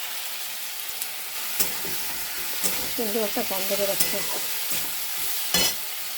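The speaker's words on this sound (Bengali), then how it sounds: "পেঁয়াজ টমেটোটা ভেজে নিচ্ছি, এর সঙ্গে মাছটাও দিয়ে দিচ্ছি, একসঙ্গে ভাজা হয়ে যাবে।" Fish fries in a pan with onion and tomato under a steady sizzle. The food is stirred, giving sharp scraping clicks at intervals, and a person speaks briefly partway through.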